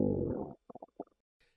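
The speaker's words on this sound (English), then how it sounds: "stomach growls loud enough for everyone to notice" A stomach growls: one long, deep gurgling rumble, followed by a short run of quieter bubbly gurgles and a faint squeak at the end, close and clear.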